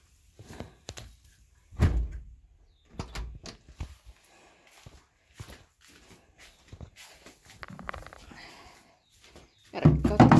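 A barn stall door opens during evening chores with miniature horses, heard as scattered wooden thunks and knocks with footsteps, and a louder clatter near the end.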